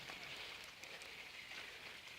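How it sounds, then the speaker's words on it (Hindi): Water drips and trickles steadily from above after rain and heavy snowfall, a faint, continuous patter like rain on a surface, with no voices. "ऊपर से पानी गिर रहा है पानी तो गिरेगा ना भाई बारिश हुआ है"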